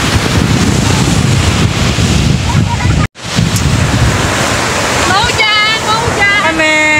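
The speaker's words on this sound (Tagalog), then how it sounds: "Ito kami sa tabing dagat." Waves rush and break along a shore at low tide under heavy wind buffeting the microphone, with a brief dropout midway and faint voices near the end.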